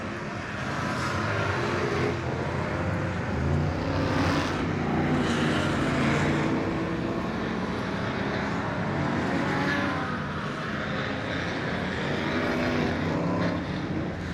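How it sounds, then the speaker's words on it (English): Loud, continuous roar of old superstock race car engines at a night meeting in Wanganui, New Zealand, steady throughout with slight swells as cars pass, no voices. "Just cool to hear the sound of those old motors being tortured"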